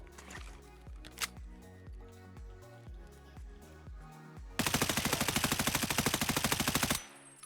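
An M4 rifle firing in the video game Escape From Tarkov: first a series of rapid single shots tapped one after another, then a sustained full-auto burst of about two and a half seconds, sharp and close.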